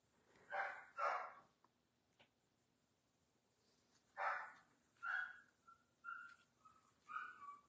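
A dog barks a few times in short, faint, distant bursts over a quiet room, with a couple of thin whistle-like tones near the end.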